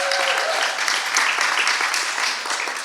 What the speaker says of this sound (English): can we please round of applause for the wonderful intro?